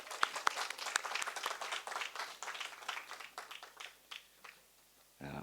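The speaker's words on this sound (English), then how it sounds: "with a warm round of applause." A small forum audience gives a round of applause, its scattered, fairly quiet claps continuing steadily and thinning out toward the end.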